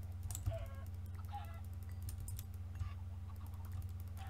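Chickens clucking all around in the game Stagcraft: repeated short, honking cackles over a steady low hum, with soft clicking of computer keys underneath.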